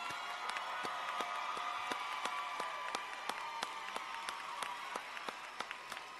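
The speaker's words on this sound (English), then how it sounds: "Another round of applause for all of our BSN graduates." A crowd at a nursing convocation applauds BSN graduates, a steady, fairly distant wash of clapping with a few sharper nearby claps standing out, plus faint cheering.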